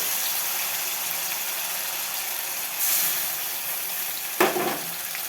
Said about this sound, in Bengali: আদা লঙ্কা ধনে গুঁড়ো হলুদ সব মশলা মিশিয়ে রেখেছিলাম একটু জল দিয়ে তেলের উপরে দিয়ে দিলাম